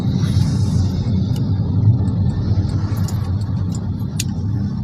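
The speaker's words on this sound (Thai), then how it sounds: "รถติดมาก" Heavy road traffic with cars rumbling past, a dense continuous low roar with occasional faint higher clicks and rattles, steady and fairly loud throughout.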